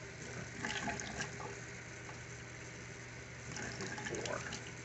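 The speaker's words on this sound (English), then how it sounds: "I'm putting more water in it this time." Water is poured into a bowl holding half a cup of dry rice, a steady soft trickle with a couple of brief splashy swells, close by and fairly quiet.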